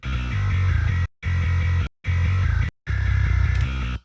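Bass guitar heavily distorted through a distortion plugin, playing four sustained, growling notes separated by short gaps, loud and upfront.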